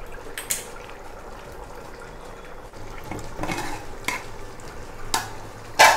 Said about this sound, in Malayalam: കപ്പ അടുപ്പിൽ നിന്ന് ചൂടായി, നമുക്കൊന്ന് ഇളക്കി കൊടുക്കാം, അല്ലെങ്കിൽ അടിക്ക് പിടിക്കും